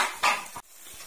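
Potatoes fry in spices in a pan, with a brief metal scrape of a spoon against the pan and a soft sizzle behind it.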